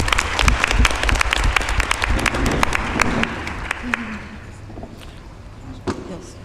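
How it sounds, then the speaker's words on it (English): Audience applause at a school board meeting, a burst of dense clapping that is loudest at the start and fades after a few seconds, with voices and room noise continuing underneath. "Let's give them a round of applause."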